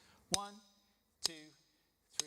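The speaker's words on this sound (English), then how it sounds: "So on the hi-hat, it'll sound like this" Hi-hat strokes on a drum kit struck in a slow, steady beat, three crisp hits, each landing with a spoken count.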